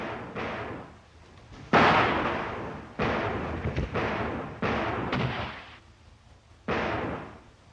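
Heavy gunfire in an action movie battle: several loud booming shots, each with a long decaying echo, spaced a second or two apart with no talking.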